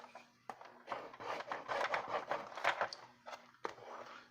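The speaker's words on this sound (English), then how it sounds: "get the Cricut scraper and let's straighten that out a little." A Cricut scraper is dragged in quick, faint, raspy strokes over a crafting surface, close and quiet, with a few soft taps in between.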